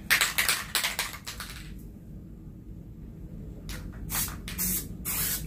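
Short bursts of aerosol spray hiss while framing a diamond painting, a quick run of several sprays, a quiet pause, then a few more bursts close by.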